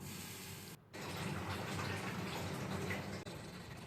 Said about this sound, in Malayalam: അതിനുശേഷം നമുക്ക് ആവശ്യമുള്ള വെള്ളം ചേർത്ത് കൊടുക്കാം.